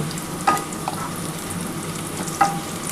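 Steady sizzling and frying in a pan, with a couple of sharp utensil clinks against the metal; no voices.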